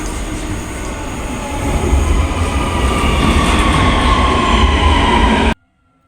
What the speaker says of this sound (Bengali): আমরা আসার প্রায় দুই মিনিটের মধ্যেই আরেকটা মেট্রো চলে আসছে